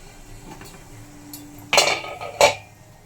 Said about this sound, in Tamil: நம்ம மூடி போட்டு வச்சிடலாம்.